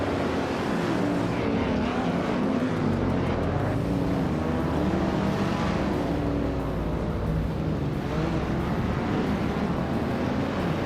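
Race car engines at the start of a racing video game, a dense pack of revving, droning motors roaring steadily and loudly throughout with shifting pitch as cars jostle.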